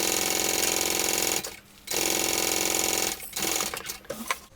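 A sewing machine runs steadily as it bastes the lining and contrast band onto a fabric bag, stopping briefly, then resuming in two more bursts with short pauses between.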